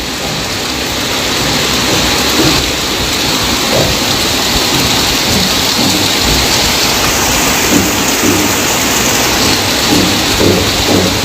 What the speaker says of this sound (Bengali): ঝমঝমিয়ে বৃষ্টি হচ্ছে এই মুহূর্তে দেখতেই পাচ্ছেন বৃষ্টির পরিমাণ কিন্তু বাড়ছে